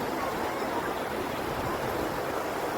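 River water and sea waves meet, producing a continuous, moderately loud rushing and churning wash that stays even throughout with no voices over it.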